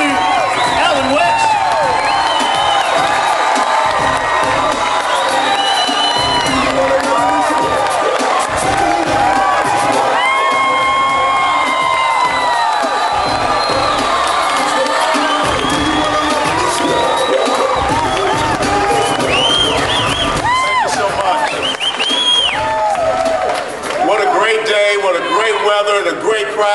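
A large crowd at a political rally welcoming Allen West, loud sustained cheering, whoops and applause filling the whole stretch, with shouted voices mixed in.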